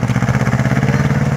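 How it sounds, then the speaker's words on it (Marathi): A tractor engine labours in a field while trying to pull a stuck tractor free, a close, pulsing mid-pitched chug with a fast regular rhythm over a short burst. "अशा तऱ्हेने आता ट्रॅक्टरला ताकद लावून काढण्यात येत आहे."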